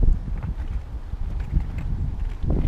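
Strong wind at Blue Lake in Vynohradar, Kyiv, after rain buffets the microphone with a continuous low, rumbling roar that surges and dips throughout.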